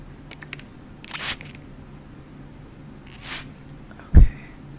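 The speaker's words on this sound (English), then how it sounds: "I sprayed your hair a little bit." Spray bottle misting hair, two soft hissing bursts close to the microphone in a quiet setting, then a sharp click.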